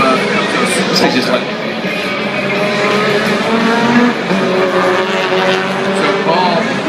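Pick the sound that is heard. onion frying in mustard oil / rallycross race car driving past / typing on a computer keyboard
rallycross race car driving past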